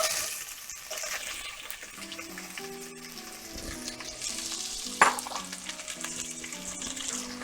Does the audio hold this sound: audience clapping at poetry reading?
no